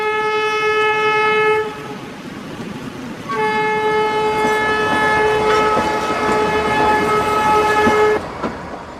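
Horn of a steam locomotive on the Kalka Shimla toy train, a UNESCO heritage mountain railway to Shimla: a loud sustained blast, a short pause, then a longer blast lasting several seconds over rumbling train noise.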